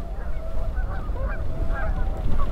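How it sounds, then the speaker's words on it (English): Canada geese and tundra swans honk at open water by Lost Lake near Enchant, a dense overlapping chorus of calls from many birds over a low rumbling background, with no talking. "Canada geese and tundra swans."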